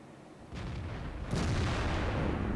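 Artillery fire in World of Tanks from an 8-inch gun: a booming shot rises out of steady background rumble, and a second, louder blast follows about a second later, each leaving a long sustained roar.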